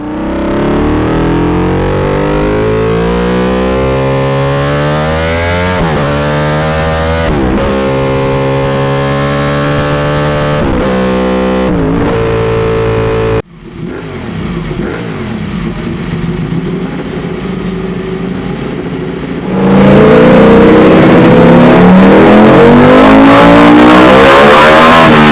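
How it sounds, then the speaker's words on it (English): A Ducati Desmosedici RR V4 motorcycle revs hard and loud, with rising and falling engine sweeps and sharp throttle blips, then a sustained high-revving roar as it accelerates, with no talking. "number 5 is an amazing sounding bike, V4 engine. It's a Ducati DESMOSEDICI RR."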